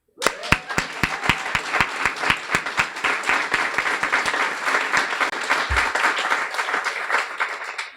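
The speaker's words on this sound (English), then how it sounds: "I'd like to give a round of applause for Amy" A guide dog school graduation ceremony audience applauds: a few sharp, separate claps open, then quickly swell into full, steady clapping from a crowd that carries on to the end.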